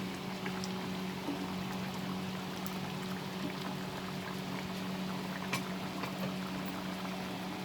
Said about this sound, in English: So now let's boil this dal till it reaches the right consistency.